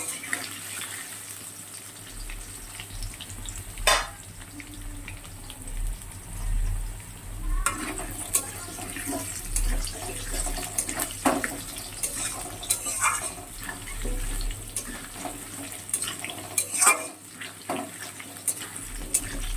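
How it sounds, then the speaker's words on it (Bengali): Potatoes frying in oil in a home kitchen pan, giving a faint, steady sizzle with light watery crackle and a few soft stirring scrapes, with no voices. "আলুগুলো একটু ভালো করে ভেজে নেব লাল লাল করে।"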